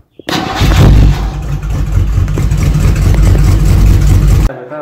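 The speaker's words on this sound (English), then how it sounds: "You said you heard my grandfather's engine clip" A carbureted engine in an old Volkswagen cranks briefly, then catches and runs loud and rough with a deep, uneven rumble from an old muffler and aggressive cam, cutting off abruptly after about four seconds.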